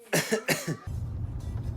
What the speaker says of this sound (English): barring the cough that I've developed from hay fever